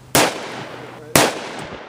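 Taurus 605 revolver fires two 180 grain .357 Magnum Buffalo Bore rounds, two sharp loud cracks about a second apart, each trailing off into a short echoing decay.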